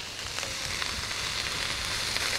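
Beef for shaking beef sears in an extremely hot wok, giving a loud, steady sizzle that holds close and unbroken, with no talking.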